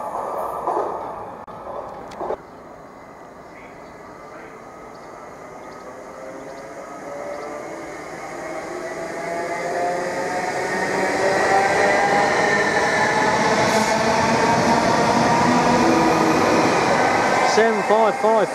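A train races through platform 2 at Stowmarket station on its way to Norwich, its rumble and wheel noise building from a distance to a loud, sustained roar with rising and falling tones as it passes close by.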